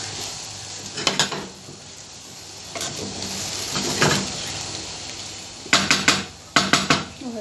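A spoon stirs macaroni with Alexandrian-style liver in a metal pot, giving bursts of clinking, scraping metal taps in irregular clusters over a low steady background hiss.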